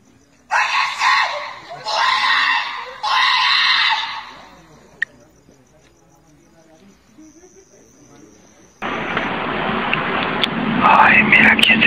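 Loud screams in three long bursts, about a second each, followed by quiet, then a steady loud hiss or rushing noise in the final few seconds, recorded during a purported paranormal event.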